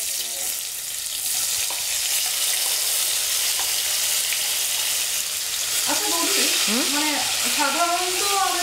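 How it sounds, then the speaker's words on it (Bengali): Prawns, about half a kilo, frying in hot oil in a wok, a steady loud broadband sizzle throughout with stirring, and a voice speaking over it in the final seconds. "তেলটা গরম হয়ে গেছে, আমি এবার চিংড়ি মাছগুলি কড়াইতে দিয়ে দিই"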